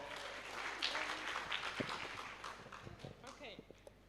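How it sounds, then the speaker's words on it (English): Applause from a veterinary workshop audience, a broad clatter of clapping that thins into scattered claps, with a voice speaking over it. "Please get applause for Daria."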